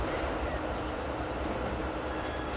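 In the game Transport Fever 2, a steel freight train runs past with a constant low rail rumble and a thin metallic whine high above it. The sound stays level and unbroken for the whole stretch, and nobody speaks.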